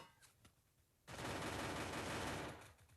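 Gunfire in the shooter game Free Fire: a dense, loud burst of rapid automatic shots erupts suddenly after a quiet moment, holds steady for about a second and a half, then tapers off.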